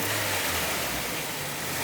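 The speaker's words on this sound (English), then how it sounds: "fire it up, make sure it doesn't squeak, and then just kick the throttle a couple times" A Nissan Silvia S15 engine runs close by after a belt change, giving a brief throttle blip over a loud, steady, noisy idle, with no voices.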